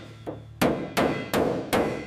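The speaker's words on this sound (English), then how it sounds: "Every dent gets fixed. Hammer and dolly work." Hammer-and-dolly strikes on the steel body of a Peterbilt 379 truck, four loud ringing metallic blows at a steady slow pace after a softer tap, each decaying briefly, with no voices.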